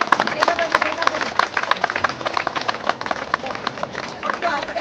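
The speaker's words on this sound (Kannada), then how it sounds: "ಬನ್ನಿ ಒಂದು ಜೋರಾದ ಚಪ್ಪಾಳೆ" Loud applause from an audience at a bicycle distribution event for girls' empowerment: steady, dense clapping from many hands throughout, close and energetic, with faint crowd murmur beneath.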